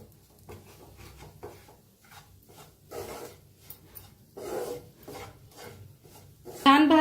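Spatula scraping and stirring a masala spice mix as it roasts in a pan, soft intermittent rubbing strokes close by with low kitchen background and a louder clatter at the end.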